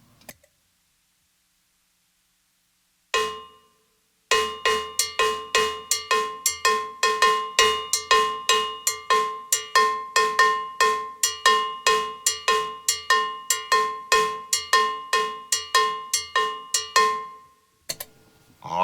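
Steady cowbell strokes beat out a Mozambique groove on a drum kit, a ringing metallic pattern with faint drums beneath. It starts after a short silence, runs for about a dozen seconds and then stops.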